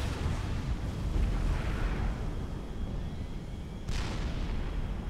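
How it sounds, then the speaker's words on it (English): Distant artillery in a Supreme Commander: Forged Alliance enemy base, a steady rumbling roar of continuous battle with a sharper burst near the end, no talk. "there's still some formidable artillery in the enemy base there"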